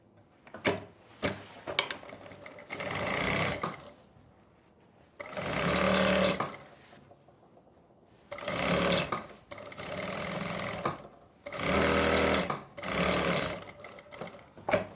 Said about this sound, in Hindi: अब हम लगाएंगे फिटिंग की सिलाई।